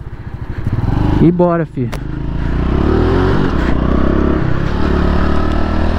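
A Honda Pop 110 motorcycle accelerates along a highway near Londrina, its small engine droning loud and close with a steady, rising hum over wind rush, while someone speaks briefly near the start.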